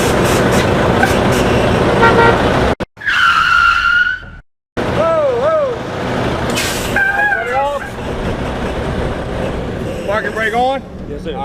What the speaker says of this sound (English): go ahead and start the vehicle. Park it over there for me